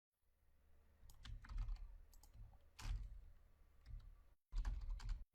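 Typing on a computer keyboard while writing PL/SQL code, with bursts of close, crisp keystrokes in an irregular rhythm and short pauses between them, alone without talk.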